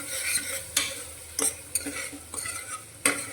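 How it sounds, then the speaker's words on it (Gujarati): Chilli powder masala stirred into raw peanuts in a pan: a spoon scrapes and knocks against the metal in several sharp, irregular strokes over a soft, steady sizzle, close up with no talk. "મસાલાને સારી રીતે મિક્સ કરીશું"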